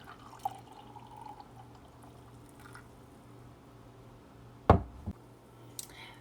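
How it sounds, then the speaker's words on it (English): Okra tea being poured through a strainer into a jar, heard as a quiet background hum broken by one close, sudden splash and gurgle of liquid with a brief trickle and a couple of small knocks afterward. "I'm going to pour this through and let it cool so that I can taste it"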